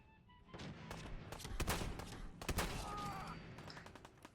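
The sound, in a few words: gunfire shooting an enemy in Fallout 4 video game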